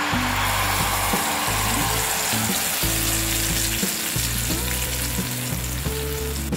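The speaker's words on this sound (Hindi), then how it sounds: "इसमें हम डालेंगे ये टैमरिंड पल्प" Tamarind pulp fries in two tablespoons of oil in a pan over a gas flame, giving a steady, loud sizzle with low rumbling bursts as it is stirred, and no voices throughout.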